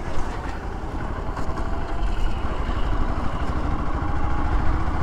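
Motorcycle engine running in third gear at around 30 km/h, a steady mid-pitched rumble with rushing road and wind noise, close and fairly loud throughout, no talk.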